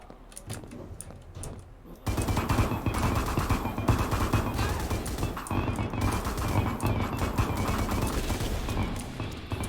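Rapid rifle gunfire from the retro-style shooter Nightmare Reaper, a loud, dense run of shots that starts after two quieter seconds of game sounds and keeps hammering without pause through to the end.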